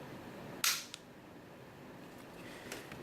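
Slide of a KJ KP18 airsoft pistol being cocked: one sharp metallic clack up close, followed by a fainter click, then quiet.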